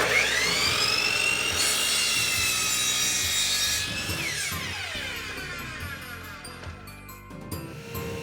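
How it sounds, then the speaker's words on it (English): A saw cuts a 7-degree angle into the bottom of a wooden board set against a stop, whining steadily through the wood before spinning down as the cut finishes. "I've set up a stop so that I can cut a 7-degree angle at the bottom of this one board."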